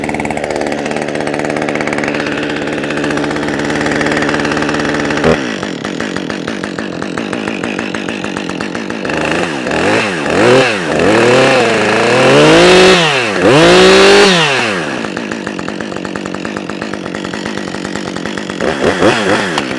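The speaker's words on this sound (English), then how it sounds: "I'm going to let the saw run there at a fast idle for, I don't know, maybe 20, 30 seconds, and then I'll kick it down." A Jonsered 2253 chainsaw, a relative of the Husqvarna 550 XP with auto tune, holds a fast idle at a steady close, loud drone. Midway the engine note swells and dips in a few wavering surges before settling back.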